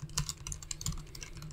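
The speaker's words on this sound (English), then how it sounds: "to filter out the keyboard sounds if you have a small desk like mine" Rapid computer keyboard typing captured by a Razer Seiren V3 Mini USB microphone on a small desk, a dense steady patter of keystrokes over a low background hum, close and clear with no voices.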